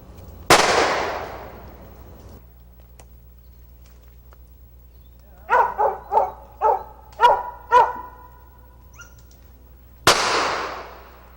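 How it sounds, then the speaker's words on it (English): A hunting dog barks outdoors during a squirrel hunt, letting out a quick burst of five or six sharp, evenly spaced barks at moderate distance. Two loud gunshot-like bangs with long decaying tails frame the barking, one before and one after. "Dog's gonna get you."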